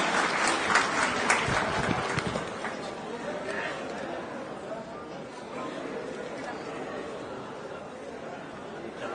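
A crowd at a political rally in Bihar applauds to welcome a speaker to the stage, a burst of clapping up front that settles into steady, moderately loud applause mixed with crowd murmur.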